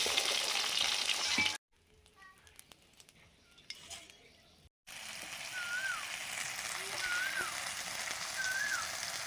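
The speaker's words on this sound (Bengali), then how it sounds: "বাটা মাছগুলো ভেজে নিচ্ছি" Bata fish frying in mustard oil, a hissing sizzle that cuts off abruptly for a few seconds, then returns steady with light clinks and faint birdsong behind.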